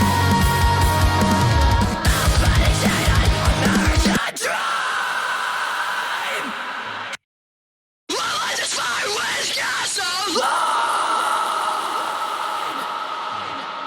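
Distorted metal vocal screams sit in a dense heavy mix, loud and sustained, cutting out briefly for a moment of silence before the raw screaming returns.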